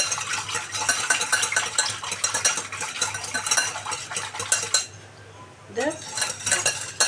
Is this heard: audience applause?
no